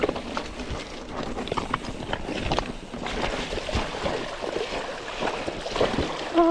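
A mountain bike splashes through a creek crossing on a cross-country trail at Devils Den, with water rushing and churning steadily close by and gravel crunching under the tires.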